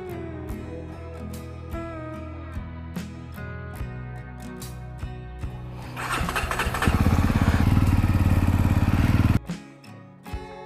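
A Jawa 42 motorcycle fitted with a 2.1 straight handlebar riser, its engine rising from a low idle into a loud, steady drone as it gets underway, then cutting off abruptly near the end.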